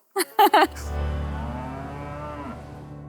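Cows moo inside a barn during morning stall cleaning, with a few short bursts of clatter or calls up front followed by a low, drawn-out moo that fades over a couple of seconds.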